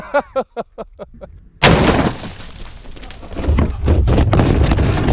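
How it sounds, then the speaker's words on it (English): A .50 BMG rifle round is fired through two watermelons, giving a sudden loud blast and crashing burst of splatter after a few short ticking sounds, followed by sustained rumbling noise and scattered impacts, heard close up. "50 BMG Spicy Boy through 2 watermelons"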